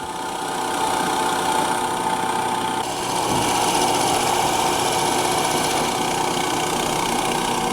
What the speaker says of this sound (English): I'll save that and catch that last 2 millimeters with the router.